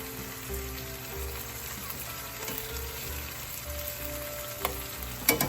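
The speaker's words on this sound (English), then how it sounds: "Just going to give these a nice toss." Noodles with prawns and greens sizzle and crackle steadily in a hot pan, with soft scraping and tossing sounds, a louder clatter near the end, close by and with no talk.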